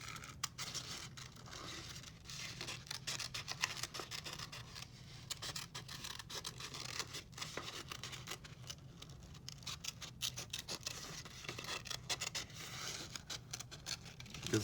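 Layered paper being cut by hand, with a blade or scissors making quiet, steady scratching and snipping sounds at close range and no voices.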